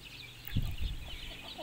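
Brooding hens in a backyard coop give a few soft, low clucks, faint and close, with quiet background noise.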